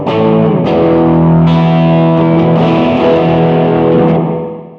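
Guitar run through a fuzz-like distortion effect with a touch of reverb on a Donner MultiPad-100, loud, thick sustained chords with a few fresh strums, no voices.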